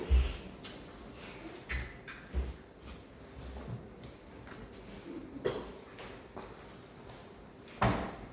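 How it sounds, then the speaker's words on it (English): A door in a lecture room thuds shut with a few soft knocks and bumps. The impacts are muffled and low amid quiet room noise. "Let's close the door."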